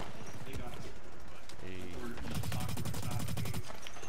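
Gunfire in the shooter Blacklight: Retribution sounds as a dense rattle of rapid shots, with a steadier automatic burst in the second half, while players talk over the action.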